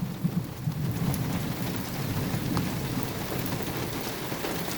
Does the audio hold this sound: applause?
no